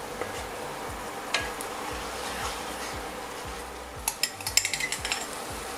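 Duck sauce with red wine and wine vinegar starts cooking in a pan, a soft sizzle under scattered scrapes and stirring clicks, ending in a quick run of sharp utensil taps.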